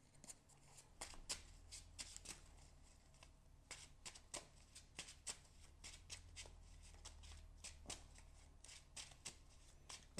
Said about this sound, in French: Je me prends une carte rencontre.